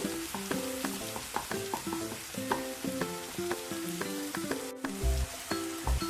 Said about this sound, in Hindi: और इसको थोड़ा फ्राई कर लेंगे